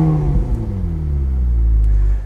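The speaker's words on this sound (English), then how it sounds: "I'm going to start the car up." A car engine starts up with a loud, low rumble that revs briefly and then settles into a steady idle close by.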